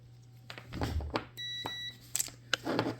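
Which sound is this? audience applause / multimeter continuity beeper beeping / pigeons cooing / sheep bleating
multimeter continuity beeper beeping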